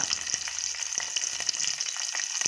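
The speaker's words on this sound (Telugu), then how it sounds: "కొంచెం దూరంగా ఉండి వేయించుకోండి పచ్చిమిర్చి వేగుతున్నాయండి" Green chillies sizzling in hot oil in a pan for a cucumber roti chutney, a steady hiss with irregular sharp pops and spatters, close and fairly loud, with no talking.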